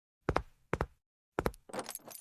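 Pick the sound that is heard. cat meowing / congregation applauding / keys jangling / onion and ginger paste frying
keys jangling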